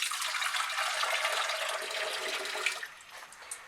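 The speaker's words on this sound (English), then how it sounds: "Then it's 1 cup, so you add 2 cups of water." Two cups of water pour steadily into a pot of rice, a close, rushing, splashing stream that thins out toward the end with a few faint drips.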